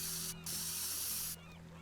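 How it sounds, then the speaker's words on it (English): Spray can hissing in the video game Teardown, a steady near, bright spray burst lasting about a second over a low game hum, with faint mechanical ticks around it. "Spray can along here."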